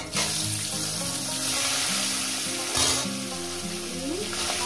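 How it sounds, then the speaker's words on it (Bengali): Rohu fish heads fry in hot oil in a kadai, a loud, steady crackling sizzle close by for several seconds, with a faint melody running underneath. "আমি মাছের মাথাগুলো আমি ভেজে নিয়েছি"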